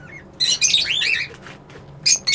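Cockatiel parrots in a cage let out bright, close chirps and sweeping whistled calls in short bursts, separated by brief pauses.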